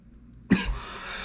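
A single sharp cough bursts out alone, loud and close, followed by a brief rough throaty tail before fading into faint room noise.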